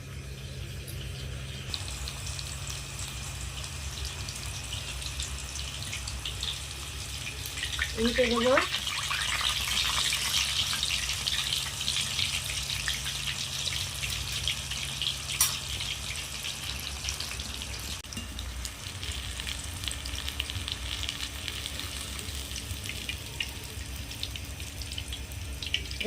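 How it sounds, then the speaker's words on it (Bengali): Chicken kathi rolls fry over low heat in hot oil in a wok, giving a steady soft sizzle throughout, with someone speaking briefly over it. "কড়াইতে তেল গরম হয়ে গেছে, এবার আমি হালকা আঁচে এইগুলো ভেজে নেব।"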